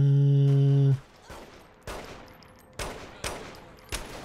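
Gunfire in Saints Row: The Third Remastered, a tonal game sound cuts off and is followed by five sharp, loud shots spaced unevenly, each with a short echoing tail.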